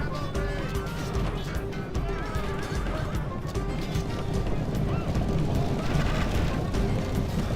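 Horses whinny and neigh repeatedly in a video game battle alongside hoofbeats, set against a dense, loud, continuous clamor of fighting that never lets up.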